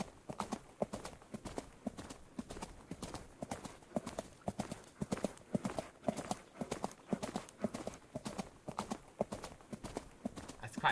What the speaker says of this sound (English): So how about horse trotting now?